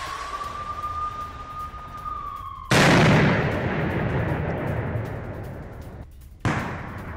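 Blasts from an air attack on a Ukrainian army tank during the Russia–Ukraine conflict: a steady siren-like tone, then a loud sudden explosion with a long rumbling decay, and a second sharp blast near the end.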